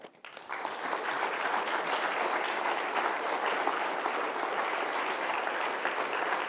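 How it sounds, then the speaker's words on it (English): Audience applause at a memorial lecture, a sustained, even wash of clapping from a large hall that starts sharply and carries on steadily without voices. "I want to invite you to give him a round of applause to express our appreciation."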